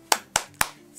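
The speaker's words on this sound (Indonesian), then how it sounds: "Sekali lagi, tepuk semangat." Three sharp, evenly spaced claps from children doing a rhythmic spirit clap (tepuk semangat) in an online kindergarten class, close and crisp with brief gaps between them.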